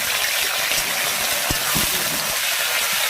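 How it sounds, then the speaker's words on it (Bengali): Pointed gourd (potol) frying in hot oil in a wok, a loud continuous sizzling hiss with small pops and a few soft clinks throughout. "ভালো করে ভেজে নেব লবণ হলুদ দিয়ে।"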